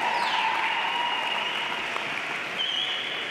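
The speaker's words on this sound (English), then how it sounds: "I asked the members of the graduating class to reciprocate by applauding your family, friends, faculty, and staff" Steady, dense applause from a university convocation's graduating class fills the hall, continuous and even throughout with no talking over it.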